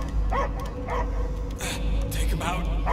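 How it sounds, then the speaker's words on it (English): A dog barking and whimpering in the video game Guardians of the Galaxy, with short yips repeated through the clip, partly masked by a loud low rumbling game soundscape and voices talking over it. "I hear only barking."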